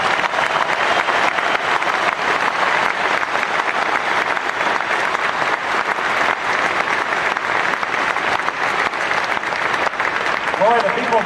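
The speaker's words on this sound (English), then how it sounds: "Give Lori a round of applause." Sustained applause from a large rally crowd in Lafayette, Louisiana, steady and dense for the whole stretch, with a voice briefly rising over it near the end.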